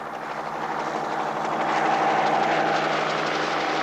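A helicopter flies on a locust search over Australian country, its rotor and engine a steady loud drone that swells slightly as it passes, with no other sounds.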